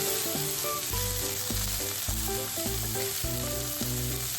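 Carrots stir-frying in hot oil with garlic, a loud steady sizzle under a melodic background tune, close and continuous with no talking.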